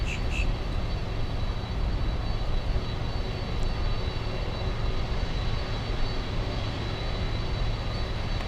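A jet airliner roars steadily on landing approach at Miami International Airport, a loud, broad, continuous engine rumble that holds without a break throughout.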